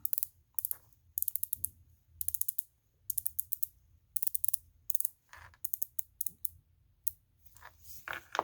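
Bursts of quick, crisp ratcheting clicks from a Glycine Combat Sub dive watch bezel being turned by hand, arriving in short irregular runs with brief pauses between them, close and fairly quiet.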